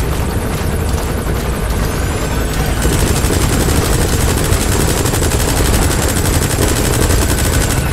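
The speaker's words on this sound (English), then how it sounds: "What are you shooting at?" Rapid automatic gunfire from the video game Metal Gear Solid 5: The Phantom Pain, loud and continuous for several seconds, with a helicopter-like drone running underneath.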